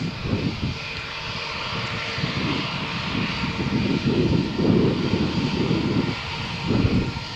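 A Vueling airliner on a stormy morning at Malaga Airport, its engines producing a loud, sustained roar with rising and falling surges, close by and with no voices over it.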